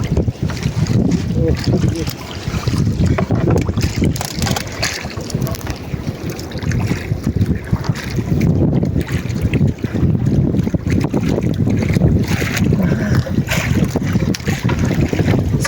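Steady seaside wind roars and buffets the microphone from a boat on open water, a continuous gusty rush with low rumble throughout, broken by occasional faint voices.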